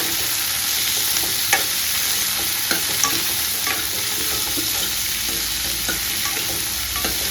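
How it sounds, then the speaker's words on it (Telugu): Chopped tomatoes fry in hot oil in a pan with a steady bright sizzle. Occasional soft scrapes and taps from stirring come through, close and continuous, with no voices. "ఇవి మంచిగా గోల్డెన్ కలర్ వచ్చేంత వరకు వేయించుకోవాలి"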